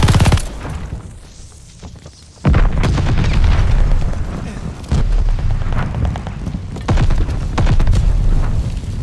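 Grenade blasts and gunfire in Call of Duty Vanguard: a loud opening boom, a quieter lull, then repeated heavy explosions and bursts of shooting, with talk in between.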